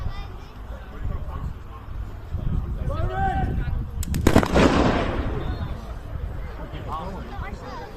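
A weapon is test-fired at a World War II re-enactment, a loud bang with a sharp burst of noise roughly midway, set amid crowd chatter and outdoor background sound.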